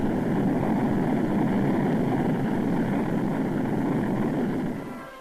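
Atlas rocket launch carrying John Glenn into orbit, a steady, loud, roaring rumble that holds for several seconds before easing off slightly at the end.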